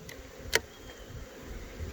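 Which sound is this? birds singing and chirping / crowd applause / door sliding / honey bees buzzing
honey bees buzzing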